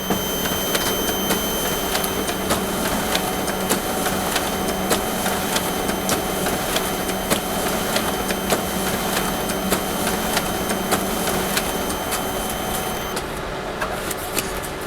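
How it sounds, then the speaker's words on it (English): A Kyocera FS 4200DN mono laser printer runs through a ten-page job with a continuous, even mechanical whir and rapid regular clicks of sheets feeding, close and steady without talk. "I'm now just printing 10 pages through the machine to show you just how quick it is"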